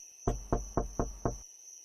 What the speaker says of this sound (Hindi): वो जल्दी से अपने पड़ोस में गई और उसने ममता का दरवाजा खटखटाया।